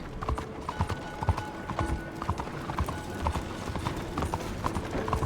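Horse hooves clip-clop at a steady walking pace in Red Dead Redemption 2, close and fairly loud, with faint background ambience and tonal hums underneath.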